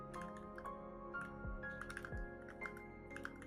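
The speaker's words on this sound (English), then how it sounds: "It's just like aggressive typing noises." Aggressive, fast keyboard typing with clustered key clicks and occasional heavier strikes, close and fairly quiet over a steady background hum, with no talking.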